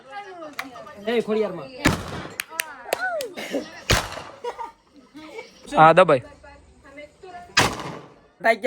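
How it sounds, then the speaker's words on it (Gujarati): Several loud, sharp firecracker bursts ring out at irregular intervals during Diwali, mixed with people talking and laughing nearby. "આજે ફટાકિયા ફોડવાનું છે"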